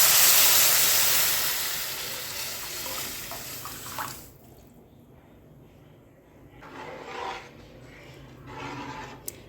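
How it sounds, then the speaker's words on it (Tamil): Diluted coconut milk rasam is poured into a hot pan of sautéed ingredients, starting with a loud, rushing sizzle that fades after a few seconds into softer, intermittent bubbling and hissing. "இப்போ நம்ம கரைச்சி வச்சுருந்த ரசத்தை வந்து ஊற்றிடலாம்."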